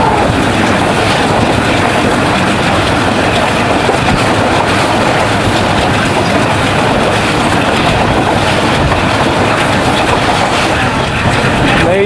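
Rehman Baba Express passenger train running on rails out of Tando Adam in Sindh, a loud continuous rumble with rhythmic wheel clatter filling the whole stretch, close and unbroken.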